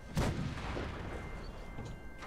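An explosion in the video game Fallout 76 lands as a sharp, faint boom early on, followed by a low, lingering rumble.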